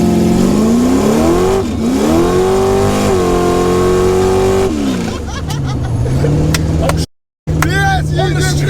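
A 9.8-litre, 800 bhp Chevy Nova drag car launches and accelerates hard, its loud engine climbing through several rising revs, then a short gap before a steadier roar returns as people talk over it.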